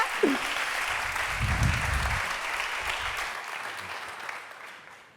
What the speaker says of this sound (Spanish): Un fuerte aplauso para Dolores Redondo, César Pérez Gellida.